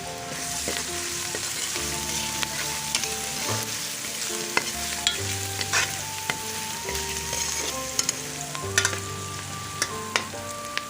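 Garlic-ginger paste is stirred into fried onions in a hot pan, a steady sizzle running throughout with scraping spoon strokes and small taps, close and continuous with no talk.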